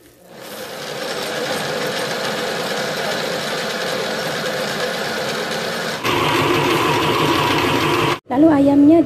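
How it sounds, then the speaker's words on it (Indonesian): A blender grinds spices with chopped mint and coriander leaves for chicken biryani, its steady motor drone running for several seconds, shifting to a harsher pitch partway through, then briefly stopping and restarting. "ini di blender ya."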